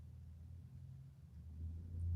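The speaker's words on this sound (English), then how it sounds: "that is my neighbor with a very loud truck." A neighbor's very loud truck starts up outside, heard indoors as a faint, low engine rumble that swells toward the end, with no talking over it.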